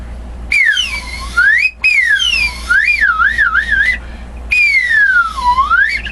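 A slide whistle plays loud, close glissandos, sweeping down and back up in long swoops and wobbling through quicker wavy runs across four phrases with short gaps, heard alone.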